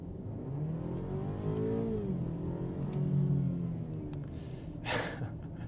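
A 2023 BMW X3 30i xDrive with a 2-liter turbo four-cylinder accelerates from the cabin, its engine note climbing through a gearshift and rising again in a smooth, steady hum, moderately loud with no voices.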